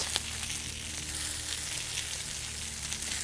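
Hispi cabbage sears in a very hot pan over high flame, giving a steady, even sizzle and hiss for a few seconds with no voices and only faint clicks in the background.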